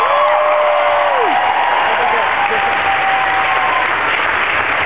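A festival comedy crowd at Bonnaroo bursts into loud, sustained applause with cheering and a whoop, a dense wash of clapping that holds steady throughout.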